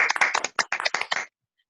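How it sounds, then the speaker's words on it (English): A short round of clapping for a team, a quick dense patter of hands lasting just over a second before cutting to silence. "A big clap on the whole team."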